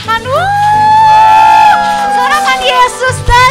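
A church congregation shouts and whoops loudly in praise of Jesus, with long rising cries standing out over a steady crowd roar and deep music underneath.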